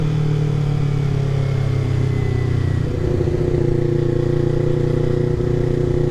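Kawasaki Ninja 400 motorcycle engine running steadily after a clutch replacement, a loud continuous idle hum with a slight shift in tone midway, heard alone throughout.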